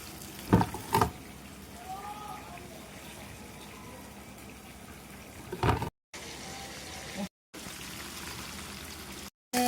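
Chicken pieces fry gently in oil over low heat, a soft continuous sizzle with a few sharp clacks and brief cutouts, while a voice talks at times.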